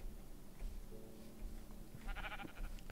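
Sheep in the video game Minecraft bleat repeatedly over a busy game backdrop, their wavering calls coming close together and fairly loud throughout.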